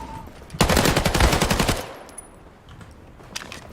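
Rapid automatic gunfire in the World War II shooter game Battalion 1944, a loud fast burst lasting over a second, then quieter game ambience with a faint later shot.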